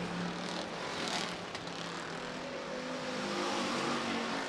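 Sprint cars racing side by side on a dirt oval, a steady loud engine roar with a sustained high droning whine that swells slightly, heard from a distance with no talk.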